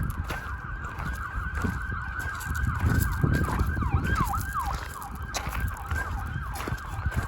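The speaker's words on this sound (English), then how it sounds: "Oh, it's an ambulance." An ambulance siren wailing in city traffic, its rising and falling tone echoing back off surrounding buildings, moderately loud over a rumble of passing vehicles.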